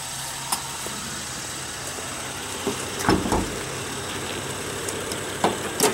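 A 2008 Honda Accord Coupe EX-L's 3.5-liter J35 V6 with variable cylinder management idles in a low, steady hum, punctuated by a few faint clicks and thumps nearby.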